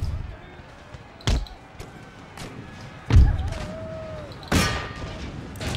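Artillery firing in the Empire Total War video game, with three or four heavy booming shots spaced a second or two apart over a quiet battle-ambience background.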